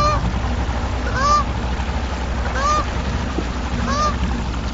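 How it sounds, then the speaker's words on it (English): A goose honks near a boat on the water, giving three loud, separate nasal honks spaced about a second and a half apart over a low background hum. "That daggone goose mess with you"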